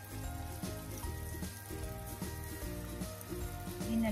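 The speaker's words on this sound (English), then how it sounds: "Start to fry our tofu." Cornstarch-coated tofu frying in oil over low heat, giving a faint, continuous crackling sizzle with soft irregular pops throughout, heard alone without talk.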